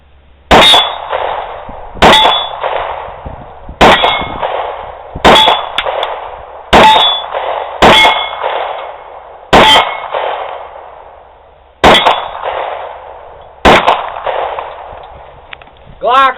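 Walther PPX 9mm rounds striking a steel target: nine sharp, loud clangs spaced about a second or two apart, each with a ringing metallic decay that fades before the next hit.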